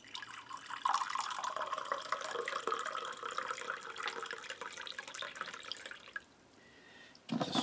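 Liquid pours steadily into a mug for about six seconds, a close, continuous trickling splash that thins out near the end and stops.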